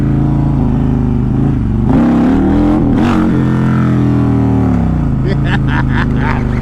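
A built Harley CVO motorcycle engine revs hard and loud during wheelies, its deep throbbing roar rising and falling close by, with a voice shouting over it.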